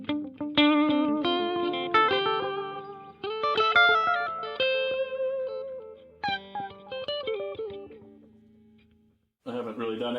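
Electric guitar played through a Donner reverb and delay pedal with tap tempo: clean picked notes and chords ringing out with echoing repeats and a reverb tail, fading near the end before a final strum.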